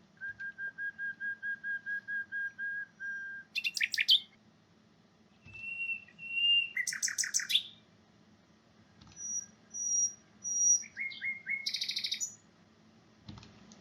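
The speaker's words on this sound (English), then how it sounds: "each whistle song is composed of a series of tonal syllables with a steady pitch" Nightingale whistle song: series of clear tonal syllables at steady pitch, a fast repeated run of identical whistles, then separate held notes and buzzy chirps, close and alone against faint background.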